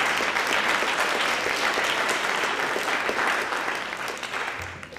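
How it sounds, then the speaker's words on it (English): Sustained applause from a TEDx audience fills the room at full strength, a steady dense wash of clapping that holds for several seconds before tapering slightly near the end. "Give yourselves a big round of applause"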